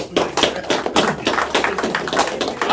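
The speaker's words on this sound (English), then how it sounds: "Round of applause." A room full of attendees at an investor meeting breaks into a round of applause, steady overlapping hand claps of moderate loudness filling the whole moment.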